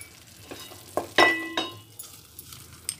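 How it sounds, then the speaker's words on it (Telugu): Chickpeas fry dry in a pan with turmeric, chili powder and curry leaves: a quiet, continuous sizzle broken by a few sharp spatula scrapes and clinks against the metal. "ఈ విధంగా బాగా ఫ్రై చేసుకోవాలండి, పచ్చివాసన లేకుండా, వాటర్ ఏమీ లేకుండా ఫ్రై చేసుకోవాలి"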